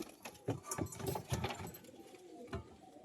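Pigeons coo softly in a series of short, low pulses, faint and close, with light patter and no talk.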